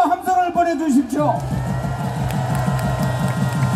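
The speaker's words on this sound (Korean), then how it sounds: "큰 박수와 함성을 보내주십시오" A crowd at a civic group's rally cheers and shouts in a loud, sustained roar that holds steady throughout.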